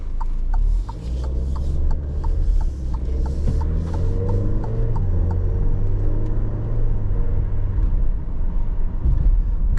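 A 2022 Alfa Romeo Stelvio Ti AWD with a ZF 8-speed automatic drives along. The engine drones steadily, low and loud, and a faint ticking repeats over it. No one speaks.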